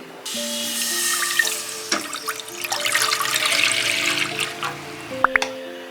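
Water running steadily from a tap into a pan for chicken soup, a continuous close splashing fill lasting several seconds before a few clunks at the end.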